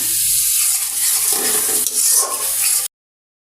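Spiced masala for egg korma sautéing in oil, a steady loud sizzle with stirring scrapes that runs close and continuous before cutting off abruptly.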